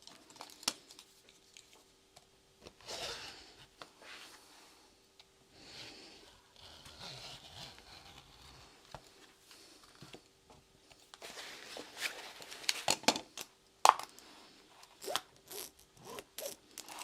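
Scissors cutting lining fabric pieces on the fold, giving scattered crisp snips and rustles close by with brief pauses, louder clustered cuts toward the end, no talk.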